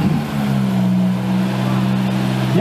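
A vintage Rolls-Royce rolls along in an oldtimer parade on Rüttenscheid's streets in Essen, its engine giving a smooth, steady low drone, with faint crowd background and a brief voice.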